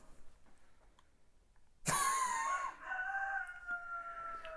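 A rooster crows loudly and suddenly after a quiet stretch, its long strained call ringing out, followed by a second fainter crow overlapping it.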